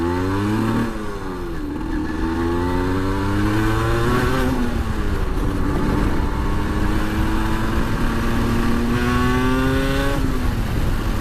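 A 125cc motorcycle ridden on a gravel country road near the Guern quarry lake, its engine loud and close as it revs and shifts through gears in rising then falling sweeps, with wind noise throughout.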